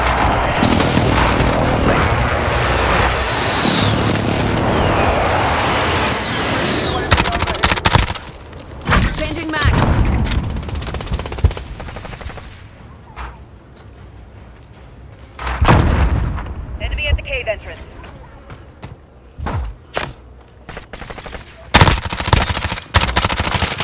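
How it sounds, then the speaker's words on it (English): A precision airstrike in the video game Call of Duty Modern Warfare, with heavy booming explosions and rattling gunfire that come in loud waves and sudden blasts, separated by brief quieter gaps. "Friendly precision airstrike inbound."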